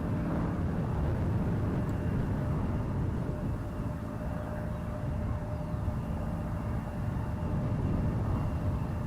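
Airline freighter planes passing overhead, a steady, broad engine roar that holds at an even level throughout, heard from a distance with no talk.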